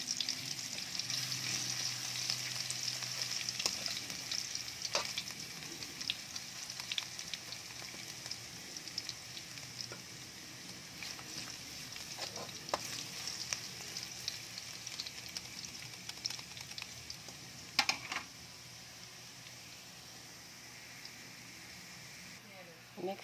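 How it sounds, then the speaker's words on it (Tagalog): Garlic frying in a pan until browned, a steady soft sizzle running throughout with occasional stirring clicks while someone speaks over it. "Lagyan na natin yung ating bawang. Medyo papulahin natin yan"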